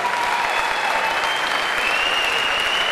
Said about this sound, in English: big round of applause for these two amateur fighters going the distance